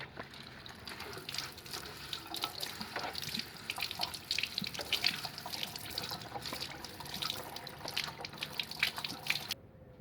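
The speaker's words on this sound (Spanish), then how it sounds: "Estas ramas las voy a lavar un poco para que no esté con polvo" Tap water runs and splashes as neem branches are rinsed under it, a soft steady trickle broken by uneven spatters and drips as the leaves are moved through the stream, fairly quiet and close, with no talk.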